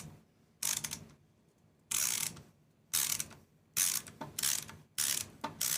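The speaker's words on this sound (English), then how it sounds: "now we're gonna take off the rest of these screws" Screws being undone from a PC setup, five separate bursts of ratcheting, clicking driver noise with quiet gaps between, close and clear, no speech.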